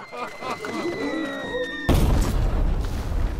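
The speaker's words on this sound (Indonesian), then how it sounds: "sebuah ledakan memecah keheningan parit" A sudden loud blast in a war trench cuts in, followed by a dense, sustained low rumble that fills the rest of the clip after a quieter tonal passage.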